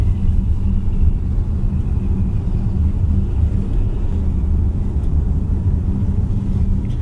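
Road noise inside a 2025 Lynk & Co 01 PHEV driving in pure electric mode, a continuous low rumble from tyres and road surface that holds steady throughout, with no talking.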